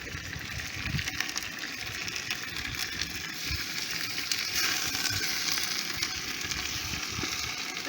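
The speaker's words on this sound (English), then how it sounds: "You want to hear the sizzle" Meat sizzling and frying in a hot pot for South African potjiekos, a steady, dense crackle that holds at an even level throughout, fairly close, with no talking.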